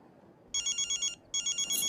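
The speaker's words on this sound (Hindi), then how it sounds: "फोन की घंटी बज रही है" A telephone bell rings in two bursts, each a rapid trembling trill, bright and fairly close against a quiet background.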